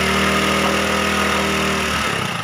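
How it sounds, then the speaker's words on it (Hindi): A Honda CD 70 motorcycle engine, just fitted with new piston rings and valves, runs close by with a steady, buzzing single-cylinder drone that holds level before easing off at the end. "अभी हम इसको रेस देंगे"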